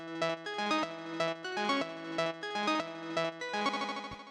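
Synth lead playing a steady looping pattern of bright plucked chords and notes with a regular pulsing rhythm, moderately loud and without voices.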